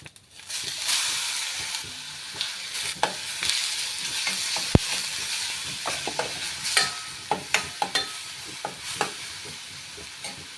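Ground onion and garlic paste sizzles in hot oil after mustard seeds and curry leaves have been tempered, while it is stirred for tomato rasam, with steady frying hiss and sharp scraping clicks from the spoon against the pan.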